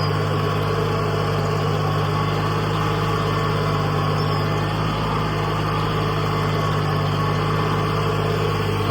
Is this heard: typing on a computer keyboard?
no